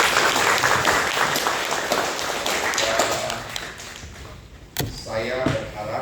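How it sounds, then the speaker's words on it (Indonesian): Audience applause at a business CEO forum on women in leadership, a dense, steady clapping wash that fades toward the end, broken by a sharp thump, then swells briefly again. "Sekali lagi kita kasih tepuk tangan yang"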